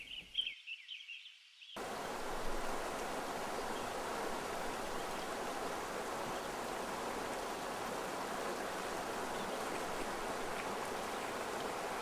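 A river stream flows steadily with a soft, continuous rushing wash, even and unbroken throughout.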